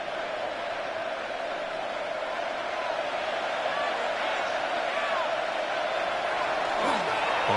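Steady roar of an American football stadium crowd at an early-possession moment, a broad constant wash of noise with faint whoops rising near the end.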